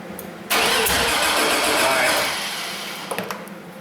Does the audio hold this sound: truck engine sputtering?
yes